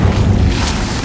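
Casting the Incendio fire spell in Hogwarts Legacy gives a loud, steady roaring whoosh with a heavy low rumble and a brief brighter flare midway through.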